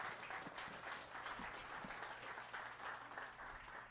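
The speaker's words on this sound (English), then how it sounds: "let's give these guys a big round of applause." A church congregation at a Father's Day service gives a round of applause, dense steady clapping from many hands that holds evenly from start to finish at moderate distance.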